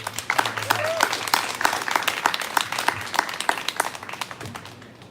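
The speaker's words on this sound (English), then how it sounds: "how about just one last big round of applause for you" Audience applause at a book event with two authors, a dense, steady round of clapping from a nearby crowd lasting throughout and tapering slightly at the end, with faint voices underneath.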